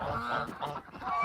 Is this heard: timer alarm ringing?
no